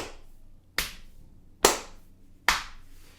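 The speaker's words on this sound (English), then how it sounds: "every time I clap, whenever my palms are facing together, that's on beat number 1" Hands clap a Takadima rhythm, four sharp, evenly spaced claps ringing out in a quiet room, each with a short decaying tail, with no talking.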